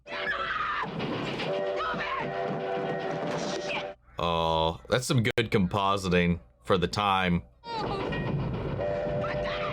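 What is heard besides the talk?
small train running on tracks in a movie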